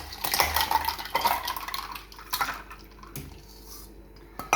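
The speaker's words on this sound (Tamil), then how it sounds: "ஐஸ் கடி சத்தம் பார்த்தீங்களாங்க?" Ice cubes clinking against a glass as lemon juice with sugar is stirred, a close, busy clatter that thins out toward the end.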